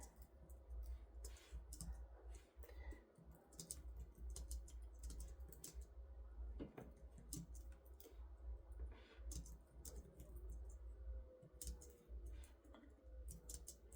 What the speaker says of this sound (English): I was supposed to let y'all see me doing some typing